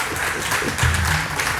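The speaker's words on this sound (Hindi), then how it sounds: "कुशान प्रभु की ताली मारो थोड़ा सा" Audience applause at a religious Bhagavat katha gathering, a loud, continuous patter of many hands that swells slightly midway, heard alone without talk.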